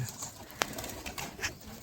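Pigeons on a rooftop coo softly at low level, with a short sharp wing-flap or click standing out briefly and faint scattered bird sounds around, no talking.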